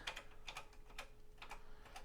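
Keys clack on a TI-99/4A home computer keyboard being tested after repair, a handful of quick, close, crisp taps in an uneven rhythm with short pauses, quiet and without speech.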